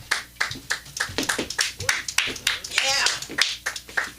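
Audience applause and cheering for an international comedian at a live comedy show, a dense burst of claps with voices mixed in, loud and close throughout.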